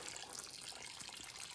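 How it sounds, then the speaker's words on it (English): Engine oil drains out of a Subaru Outback with a 3.0L V6 into a bucket, a faint continuous trickling and splashing stream. "Okay, so it's draining right now."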